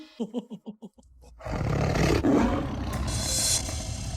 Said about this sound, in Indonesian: Pak, itu ada suara harimau, Pak.